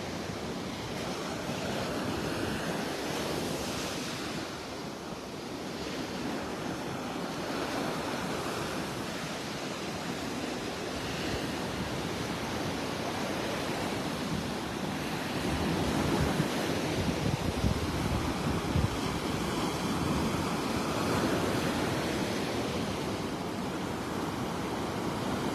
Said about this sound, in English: Getting out to the beach in weather like this.